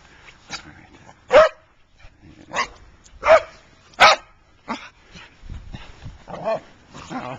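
A dog barks repeatedly at close range, sharp irregular barks and yips spaced a second or so apart with brief pauses between.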